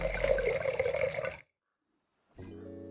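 Two glasses of wine are poured at once: a steady, close liquid stream runs, stops abruptly, then a second pour begins after a short silence.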